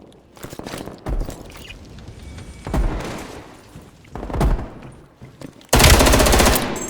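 Assault rifle fire in Black Ops Cold War: loud, close bursts of rapid shots recur throughout, ending in a long sustained burst, with no talking.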